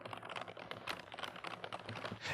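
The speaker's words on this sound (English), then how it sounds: "you can really hear me caress my keyboard" Rapid, soft clicking of keys on a computer keyboard, continuous and close-up, with no voices.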